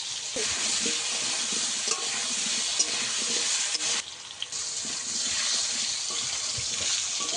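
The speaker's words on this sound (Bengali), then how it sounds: "আলুটাকে আমি ভালো করে ভেজে নেব" Potatoes seasoned with salt and turmeric fry steadily in a pan, a continuous close sizzle with scraping stir strokes throughout and a brief lull midway; no one speaks.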